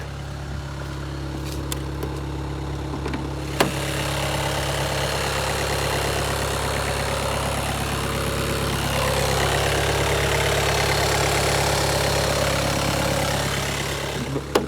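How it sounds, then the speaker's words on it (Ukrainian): A Skoda Octavia A7 engine idles steadily, a low even hum that holds constant for the whole stretch with no voices. "Двигун працює рівненько, автівка без зауважень"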